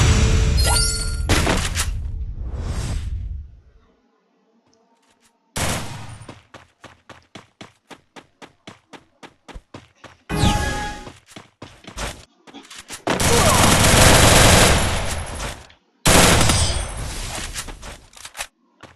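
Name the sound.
gunfire in Free Fire video game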